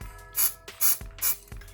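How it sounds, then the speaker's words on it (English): Super glue accelerator spritzed onto wood in three quick hissing sprays, evenly spaced, close and fairly loud, with a soft tap near the end. "I'm gonna spray this with the accelerator"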